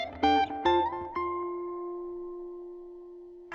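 A few picked notes on an electric guitar build into a chord that rings out and slowly fades over several seconds, clean and close.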